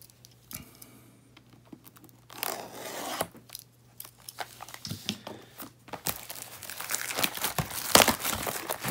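Wrappers of Upper Deck hockey card packs being torn open and crinkled up close, with bursts of sharp crackling and rustling that grow busier and louder toward the end.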